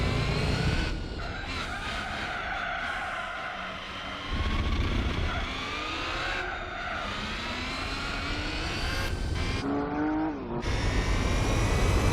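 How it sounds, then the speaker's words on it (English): Tyres squeal and screech on cars racing in Gran Turismo 4, the high wailing tones sliding up and down over steady engine roar, repeating through the lap with bursts that rise and fall in pitch. "The amount of times you're hearing the tyres squealing in pain as they're trying to find perches is hilarious."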